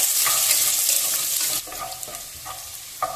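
Chopped ginger and garlic fry with mustard seeds in hot oil, a loud hissing sizzle that drops abruptly halfway, then quieter crackling with a few sharp pops and utensil knocks close by.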